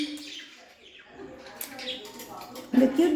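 A pet talking parrot gives a few short squawking calls near the end, sounding close and fairly loud after a quieter stretch with light household noise.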